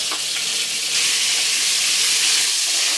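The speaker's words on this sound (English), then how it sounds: "And you want to go ahead and add your butter." Butter melting in hot oil in a wok gives a loud, continuous close sizzle and hiss that swells slightly partway through and stays steady to the end.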